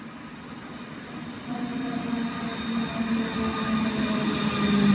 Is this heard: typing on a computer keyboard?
no